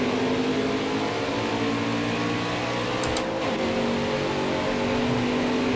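A race car engine in a NASCAR Heat 5 Chevy 250 playoff race drones loud and steady throughout, with layered harmonic whine and a brief shift in pitch midway as the car moves through the turns.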